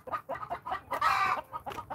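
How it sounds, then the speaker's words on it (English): Backyard hens giving their egg-laying call, a repeated rhythmic clucking with one louder drawn-out squawk in the middle, heard fairly close. "right now they're making the egg-laying sound"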